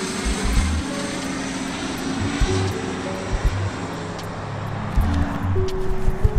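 Propeller airplane engine drones steadily overhead near an airport, a continuous loud hum with low tonal bands and no talking.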